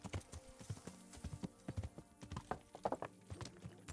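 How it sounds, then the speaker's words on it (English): Horse hooves clip-clop in the medieval video game Kingdom Come: Deliverance, a quick irregular run of faint, close hoof strikes on hard ground. "Let's just get off the horse here."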